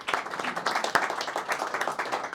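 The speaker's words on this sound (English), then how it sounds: "a nice round of applause" An audience gives a round of applause after a keynote talk, with dense, steady clapping from many hands that holds at an even level through the whole stretch.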